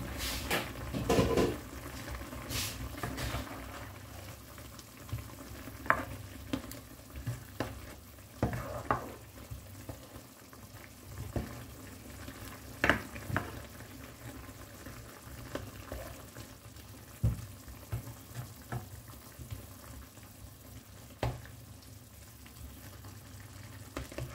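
Squash and mushrooms stirred into a pot simmering on the stove, faint bubbling and frying hiss under repeated soft knocks and scrapes of a spoon, with a few louder clacks and no voices.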